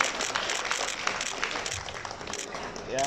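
A crowd at a regional housing developers' association working meeting in South Sulawesi gives lively applause during a souvenir handover ceremony, dense clapping that swells near the end, with a voice speaking over it.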